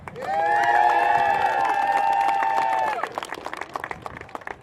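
A crowd at a U12 youth football match cheers loudly for Windsor, with whoops and a sustained shout over steady clapping that fades into scattered claps.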